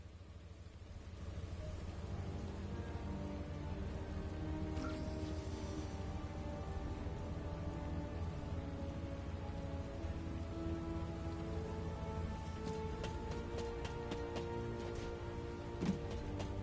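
Steady rain pours down continuously in the video game The First Descendant, a soft even hiss of drops on surfaces with a few faint clicks, no voices.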